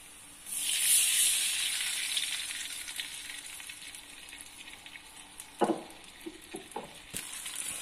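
Rinse water poured into a hot wok while making Indomie into pangsit: a sudden loud sizzle that bursts in, hisses steadily and slowly fades, with a few sharp pops and crackles near the end, no voices.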